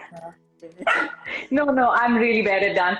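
A dog barks and whimpers in short bursts close by indoors, overlapping with steady conversation between people.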